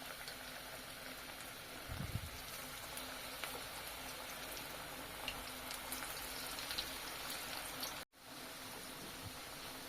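Pakora batter drops into hot refined oil and fries with a soft, continuous crackle and bubbling sizzle, faint and even throughout. A brief thump comes early on, and there is a short dropout near the end.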